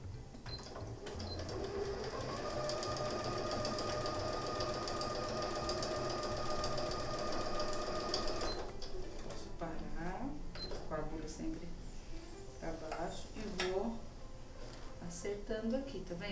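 A sewing machine stitching fabric for a multipurpose baby toiletry bag, its steady whirring hum running for several seconds near the mic before stopping, then someone talks over quieter handling sounds.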